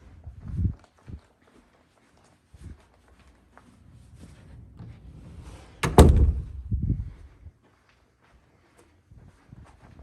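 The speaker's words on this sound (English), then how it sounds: "So let's close that door and see how they really do in very low light." An indoor door swings shut with a solid thunk and slam, preceded by a few soft footsteps and knocks in a quiet room.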